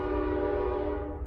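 Near a woodworking shop, a passing train holds a sustained, chord-like horn blast over a deep rolling rumble, moderately loud and steady before fading slightly at the end.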